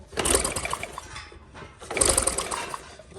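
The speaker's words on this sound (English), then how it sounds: "I did have to get to the crank bolt and kind of rotate it with the ratchet" A ratchet turns the crank bolt on a TC70 engine with no spark plug fitted, producing two bursts of rapid mechanical clicking and whirring close by, separated by a short pause.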